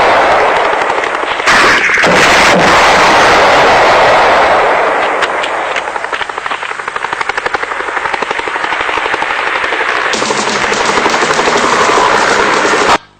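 Rapid bursts of automatic gunfire from the boxing film Rocky, loud and close, layered over a constant roaring drone like a helicopter, with sharp repeated cracks throughout.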